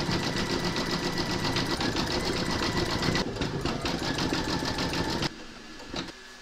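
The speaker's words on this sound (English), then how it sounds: "Pop your hoop into your machine and stitch round number 16, and that's going to zigzag around the edges of the hands and his nose" An embroidery machine stitches a zigzag outline around the hands and nose of a gnome quilt block, a steady close mechanical whirr with rapid needle pulses that runs without a break for about five seconds and then drops away to quiet.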